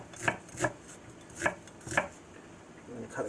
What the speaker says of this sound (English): And then we're going to cut with the grain.